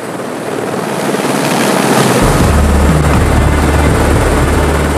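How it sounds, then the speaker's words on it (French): A helicopter sprays herbicide over cliffs on Lord Howe Island, its rotor roar swelling from a distant drone into a loud, close, steady thudding rumble with no voices. "L'hélicoptère comme outil de jardinage"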